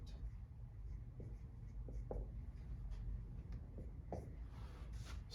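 Marker or chalk strokes on a board while a geometry proof about a tangent to a circle is written out, with short scratchy strokes scattered at an irregular pace over a steady background hiss.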